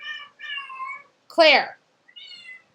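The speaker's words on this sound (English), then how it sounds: "Excuse my cat. She has an opinion as well." A pet cat lets out a run of loud, drawn-out meows close by, with one sharper, strained yowl in the middle and someone speaking briefly.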